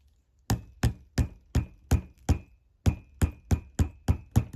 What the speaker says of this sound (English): I'm just going to give that a hammer now with my block and my rubber hammer